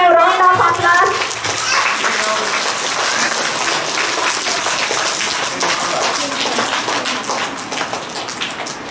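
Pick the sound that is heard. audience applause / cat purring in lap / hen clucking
audience applause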